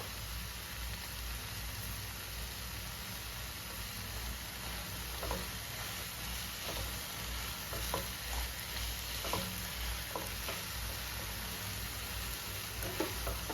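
Carrot and milk halwa bubbling in a pan, a soft continuous hiss with faint scattered pops and light stirring taps, fairly quiet and steady, with no talking.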